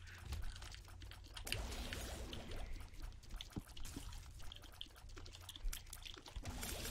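Water is poured to drink in a faint, steady stream that runs continuously with small splashy fluctuations, quiet and fairly close.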